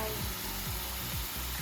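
Chicken frying in a pan, a dense continuous sizzle heard close up, steady and unbroken for the whole moment, with no talk over it.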